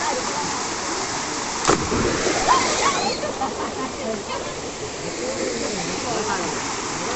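Steady rushing water from Verna Spring waterfall in Loutolim, South Goa, with a couple of splashes early on and faint voices mixed into the constant roar.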